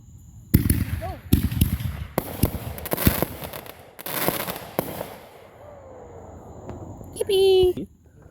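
Fireworks are set off outdoors, a series of sharp loud bangs and crackling bursts in quick succession, then quieter whistling and a voice as the volley dies down.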